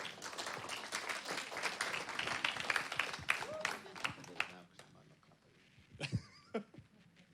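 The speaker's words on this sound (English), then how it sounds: "give him a round of applause to make him feel welcome" A church congregation gives a welcoming round of applause that fades after about four seconds, leaving a quieter room with a few scattered sounds and a voice near the end.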